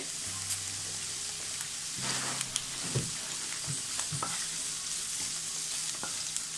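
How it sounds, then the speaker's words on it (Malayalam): Chicken shallow frying in a pan on a stove gives a steady sizzle, with occasional stirring clinks and scrapes over a low background hum. "അടുത്ത സ്റ്റൗവിൽ ഞാൻ ചിക്കൻ ഫ്രൈ ചെയ്തുകൊണ്ടിരിക്കുക കേട്ടോ"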